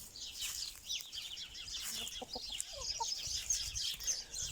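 Hens in a small backyard garden enclosure clucking in short, irregular bursts, close by, over a bed of chirping sparrows and outdoor ambience.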